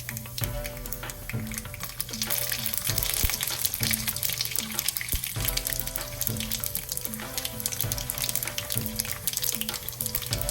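Mustard seeds, chana dal and cumin fry in hot oil, giving a continuous loud sizzle with scattered crackles and pops that holds steady throughout, with no voices.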